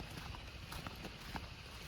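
Hooves of wild horses clip-clop in a quick, uneven series of soft thuds, faint and somewhat distant against a steady outdoor background.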